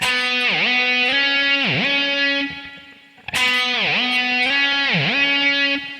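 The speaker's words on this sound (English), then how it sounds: "kind of use a whammy to get that note to ring out" A distorted electric guitar plays a riff, with sustained notes that the whammy bar dips and bends repeatedly, played twice with a short break, loud and without talking.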